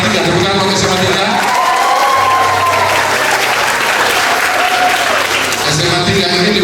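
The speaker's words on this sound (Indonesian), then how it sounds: "tepuk tangan buat SMA 3" An audience at a school event for SMA 3 gives loud, sustained applause, a continuous wash of clapping with a voice speaking over it through much of the clip.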